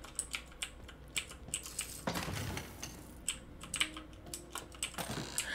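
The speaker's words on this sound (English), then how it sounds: "hopefully my key clicking on this keyboard isn't too obnoxious" Computer keyboard keys click and clatter close up during a game of Tiny Tina's Wonderlands, coming in irregular bursts of taps with a brief denser flurry of typing partway through, and no voices.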